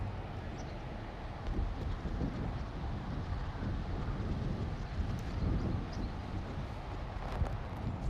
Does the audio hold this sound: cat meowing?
no